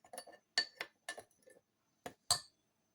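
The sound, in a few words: stirring a mixture in a bowl while cooking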